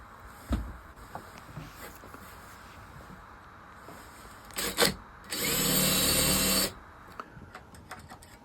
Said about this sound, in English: I'm going to use the template to drill the drain hole.